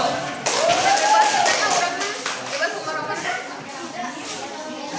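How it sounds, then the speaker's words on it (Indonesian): A classroom of students clapping for the first group during a teacher's practical assessment lesson, a loose, moderate patter with voices and chatter mixed in. "Tepuk tangan dulu buat kelompok 1"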